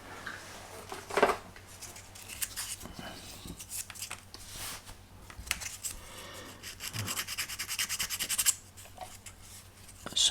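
Continuous scratchy rubbing of wet-and-dry sandpaper against a model Royal barge, close and fairly quiet, in uneven strokes with brief pauses.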